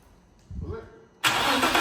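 A fully built twin-turbo VQ engine cranks briefly, then catches and fires into a loud, steady roar on its first start-up, close by, with a voice heard just before.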